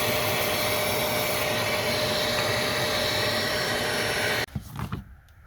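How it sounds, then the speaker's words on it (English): Vacuum cleaner hoovering the interior of a car, a steady close whooshing drone that runs for about four seconds before cutting off, followed by a few faint knocks and rustles, with no speech. "So I'm gonna do the whole car, hoovering it down."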